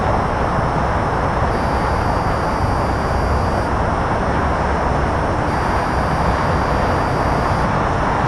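A SEPTA-area train zips through Cornwells Heights station at rush hour, a loud, steady broadband roar of wheels and rushing air that fills the whole stretch without easing, with a faint high whine running through parts of it.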